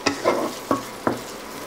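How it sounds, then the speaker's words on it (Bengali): Spice paste with a splash of water, stirred and fried slowly on low heat for chickpea bhuna, gives four distinct close spoon scrapes over a gentle, continuous sizzle. "এখন এই মশলাটাকে একটু টাইম নিয়ে আস্তে আস্তে চুলার আঁচটা কম রেখে এটাকে কষিয়ে নিতে হবে।"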